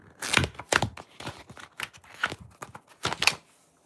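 Paper being torn and crumpled at a desk close up, in a series of sharp, crinkly bursts with short pauses between them.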